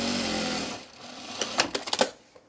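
A sewing machine runs a quarter-inch seam on a fabric baby bag in one steady burst, close and moderately loud, followed by a few quick taps and handling clicks as it stops.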